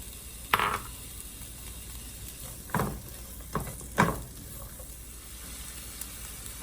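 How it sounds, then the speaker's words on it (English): Onions sautéing in a tablespoon of olive oil give a soft, steady sizzle close by, broken by a few sharp spatula clacks and stirring scrapes. "So 1 tablespoon of olive oil, and you're gonna saute your onions."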